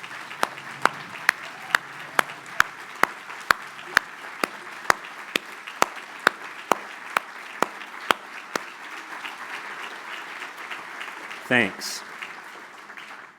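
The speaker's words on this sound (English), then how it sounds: "Let's give them one more round of applause." Standing applause at a scholarship banquet, a steady bed of crowd clapping with one nearby pair of hands striking in a slow, regular beat; a voice speaks briefly near the end.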